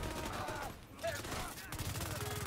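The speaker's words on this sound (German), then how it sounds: "Schießen wir mal drauf." Gunfire aimed at enemy weak points in The Division 2, a dense continuous burst of shooting with a brief dip near the middle, loud and close throughout.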